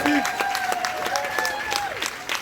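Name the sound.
applause at a birthday party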